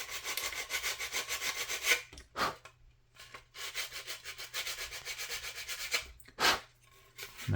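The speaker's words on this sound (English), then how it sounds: "I like these sanding sticks." A sanding stick rubs back and forth on a plastic model ship part for a 1/535 scale USS Iowa kit, giving close, steady rhythmic scraping in two long bursts separated by brief pauses.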